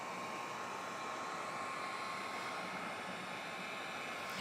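A heat gun blows hot air onto window tint film on a Ram windshield, giving a steady, close, unbroken whoosh of airflow with no pauses.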